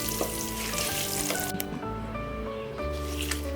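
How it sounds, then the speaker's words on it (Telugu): Hot tempering with curry leaves sizzles loudly as it is poured into ground cucumber chutney (dosakaya pachadi), a steady crackling fry with some wet squishing as it mixes in. "ఇప్పుడు ఈ పోపుని మనం ఇందాక జార్లో తీసుకున్న పచ్చడిలోని కలిపేస్తే అయిపోతుందండి"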